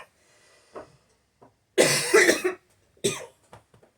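A couple of loud, harsh coughs up close, followed by a few quieter throat sounds and breaths.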